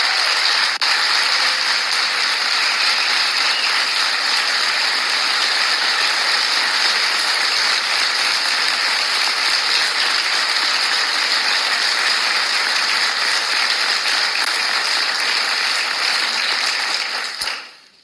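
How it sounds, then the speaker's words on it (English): A large audience at a Medal of Honor Society ceremony applauds in a dense, steady roar that holds evenly for about seventeen seconds, then cuts off sharply at the very end. "Please give them a big round of applause."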